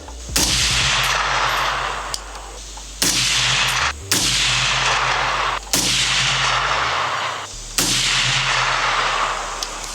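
An AR-15 in 6mm ARC fires Hornady 108-grain ELD Match factory rounds through a 22-inch barrel: five loud, sharp rifle shots spaced about two seconds apart, each with a ringing outdoor decay.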